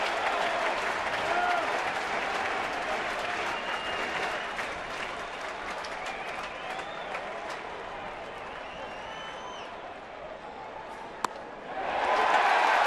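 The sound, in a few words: baseball stadium crowd cheering and applauding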